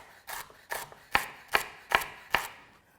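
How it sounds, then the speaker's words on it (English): A knife dices kale stems on a board in six crisp, evenly spaced chops that grow slightly sharper, close and clear with no voices. "So I've diced up my kale stems"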